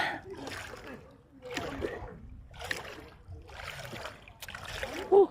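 Seawater splashes and sloshes in rhythmic surges, like waves or wading in the sea, close by, with a brief voice near the end.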